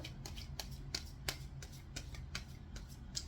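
Tarot cards being shuffled and drawn by hand: a steady run of soft, rapid papery riffles punctuated by sharper card snaps about every third of a second, close and quiet, with no talking.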